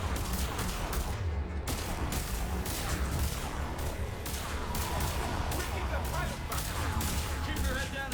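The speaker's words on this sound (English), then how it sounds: "The Reapers have air support too. Artillery and air support." Artillery and automatic gunfire in Mass Effect 3 rattle in dense, loud bursts of sharp cracks and heavier blasts, with voices faintly beneath the nonstop barrage.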